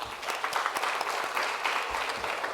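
Applause from an audience at a conference opening plenary, a steady dense patter of many hands clapping at once, fairly loud and continuous throughout with no voices over it.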